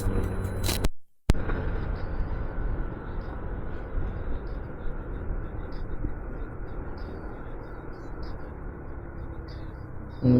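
A delivery rider's vehicle travels along a road in Saudi Arabia at dusk, giving a steady, broad road and engine rumble with wind noise that runs continuously after a brief dropout near the start.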